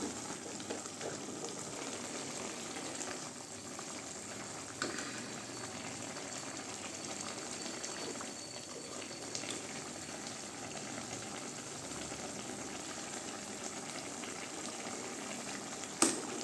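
Kumutti and magili spinach greens simmer in a pot with water, giving a steady soft bubbling and faint sizzle throughout, with one brief clink near the end and no talking.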